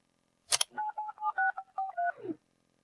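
A phone number being dialed: a sharp click followed by a rapid run of about ten dual-tone keypad beeps, clear and close, with no talk.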